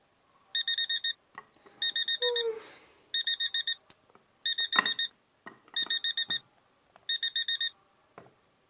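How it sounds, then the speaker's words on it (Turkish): An alarm clock beeps in repeated rapid bursts, six clusters spaced evenly, with some soft rustling and movement sounds between them. "Sabah alarmla birlikte kalkıyorum."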